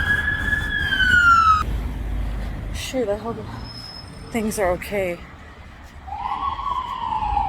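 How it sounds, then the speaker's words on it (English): A fire truck siren wails loudly at first, then drops away as the truck rumbles past; a person speaks briefly in the middle. "Fire truck's passing beside me."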